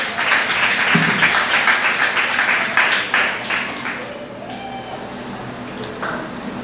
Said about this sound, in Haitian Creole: Applaudissez-nous l'église.